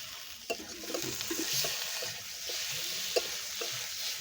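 Turmeric, chili powder and tomato frying in a pan, a steady hiss of sizzling oil with soft scraping stirs and occasional light clinks of a utensil against the pan, close and moderately loud.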